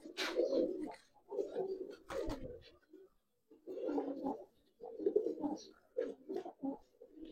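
Giribaz pigeons coo in repeated soft, throaty bursts, close by, with a voice talking intermittently among the calls.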